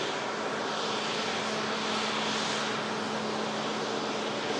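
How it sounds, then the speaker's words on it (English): A jet airliner arriving from Alicante at an airport, its broad steady engine roar with a low droning hum filling the whole stretch, continuous and fairly loud with no voices. "this aircraft's just coming in from Alicante"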